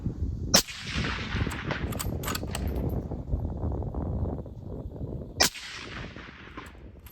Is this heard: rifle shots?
yes